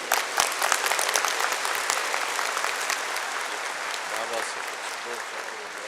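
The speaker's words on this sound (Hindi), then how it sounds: "खूब ताली बजाइए।" A large audience applauds a project inauguration with a dense, steady wash of clapping that fades slightly toward the end, and a voice briefly speaks over it.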